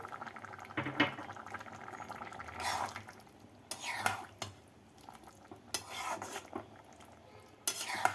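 Bottle gourd curry is stirred in a pot, with rhythmic scraping spoon strokes against metal over a gentle bubbling simmer, close and fairly quiet.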